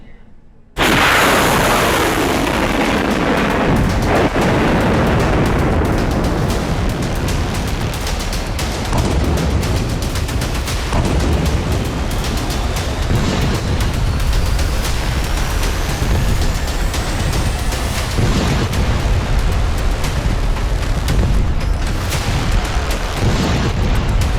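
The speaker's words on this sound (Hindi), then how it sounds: "विनाशक मिसाइल से भीषण धमाके पर धमाके।" Heavy, continuous booming blasts from missile strikes on an oil refinery roll one after another, loud and close, with crackling debris and rumbling aftershocks filling the whole stretch.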